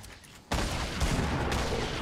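A grenade goes off in the video game Fortnite: a sudden loud blast that cuts in after a quiet moment, followed by a dense wash of gunfire and explosion noise that stays loud to the end.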